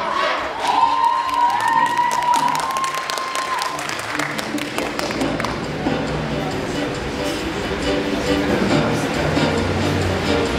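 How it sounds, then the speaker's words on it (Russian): Audience applause for the winners of a university talent-contest gala concert: a dense, sustained clatter of many hands, with some cheering and voices over it and a brief tonal whistle near the start. "Давайте еще раз громко поаплодируем нашим победителям."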